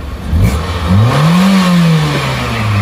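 A car engine on a dyno revs hard from a neutral drop, a sharp swell and falling sweep of pitch, loud and close, settling into a sustained high drone.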